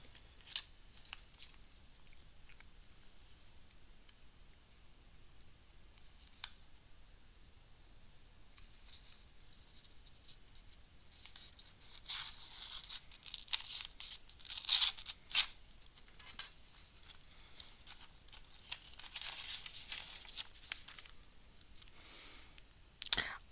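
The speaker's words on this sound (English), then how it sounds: "let's go through and open up some cards." Packs of Pokémon EX Power Keepers trading cards are handled and torn open, with quiet crinkling at first and then louder bursts of foil tearing and card shuffling toward the end, close up and without talking.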